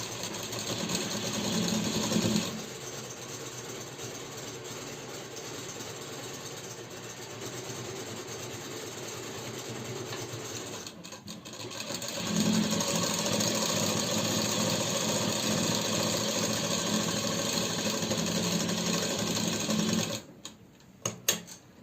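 A sewing machine stitching a sozni suit hums and rattles continuously and close up, with a brief slowdown partway through, then speeds up again before a few closing clunks.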